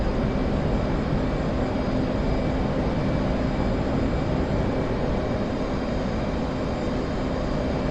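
A jet aircraft takes off from an aircraft carrier at night, heard as a loud, steady, wideband engine roar that holds for several seconds without letting up.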